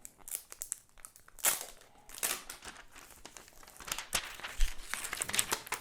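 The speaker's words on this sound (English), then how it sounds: "Unwrap that." Plastic and paper packaging on a Samsung Gear S3 Classic watch box crinkles and tears as it is unwrapped by its pull tab, a quiet, close run of irregular crackles and rustles.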